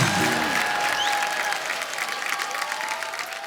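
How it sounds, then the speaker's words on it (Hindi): Studio audience on a TV comedy show breaks into steady, loud applause that fills the whole stretch, with a few whistles over the clapping. "इसके लिए तो पहले तालियां बनती"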